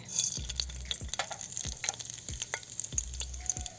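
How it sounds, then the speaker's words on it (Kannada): Mustard seeds crackle in a little hot oil at the start of a coconut sambar, giving scattered sharp pops and a soft sizzle with occasional stirring scrapes. "ಎಣ್ಣೆ ಹಾಕ್ತಾಯಿದ್ದೀನಿ ಸ್ವಲ್ಪ, ಸ್ವಲ್ಪ ಸಾಸಿವೆ ಹಾಕ್ತಾಯಿದ್ದೀನಿ"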